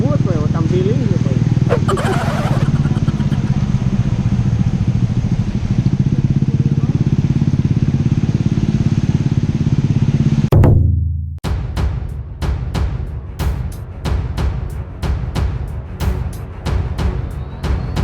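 A motorcycle ridden fast on the road: a steady engine drone under heavy wind roar, which turns into gusty, buffeting wind noise partway through.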